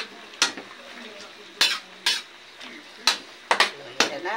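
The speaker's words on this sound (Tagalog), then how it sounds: "Haluin muna natin guys." A spoon scrapes through igado with radish, carrots and red pepper in a pan, making about seven sharp, irregular stirring strokes over a low, steady sizzle, close and fairly loud.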